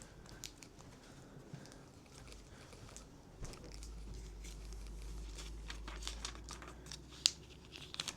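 Paper crinkles and crackles up close as a plain white envelope packet holding trading cards is folded tightly and taped with cheap thermal labels, in quiet, scattered bursts of rustling and a sharp tape snap.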